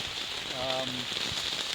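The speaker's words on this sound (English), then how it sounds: "it starts raining, and it has been raining ever since. It's coming down pretty hard." Heavy rain pounds a tent on a long-distance hike in a steady, dense hiss of close drumming drops, with a brief voice murmuring underneath.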